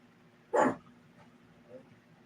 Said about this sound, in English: Oscar, you've never barked in 9 years, but you're going to bark at that